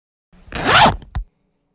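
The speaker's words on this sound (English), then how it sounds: "that was the sound of me suiting up" A quick zipper-like rustle of clothing, one sweeping pull followed by a short snap, close and clear with no voices. A character suiting up in the video game Rust.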